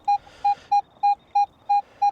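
A Manticore metal detector sounds a series of seven short, evenly spaced electronic beeps in a clear pure tone, close and loud, with no talk.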